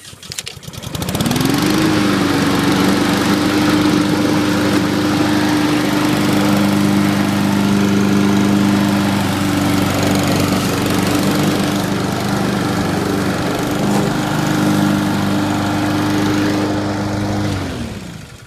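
A Honda rear-wheel-drive lawn mower starts with a quick rising pull, then its engine runs steadily at close range, loud and even, for about fifteen seconds before cutting off near the end.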